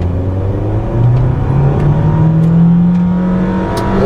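A 2015 Nissan Sentra with an automatic transmission accelerates, its engine drone rising steadily in pitch, loud and close from inside the cabin, noisy with a whirring hum and no talking.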